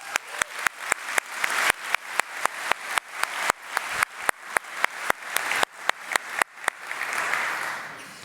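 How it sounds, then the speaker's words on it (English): Applause from a tech conference audience after a talk on scaling databases with Laravel, a full crowd clapping loudly throughout with strong rhythmic sharp claps, gradually thinning into a softer wash near the end. "now I can say everyone clapped during my LARACON talk"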